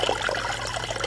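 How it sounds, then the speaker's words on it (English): Water pours steadily out of a fish pond, a continuous close splashing gush with no pauses and no voices. "We have water coming out the pond."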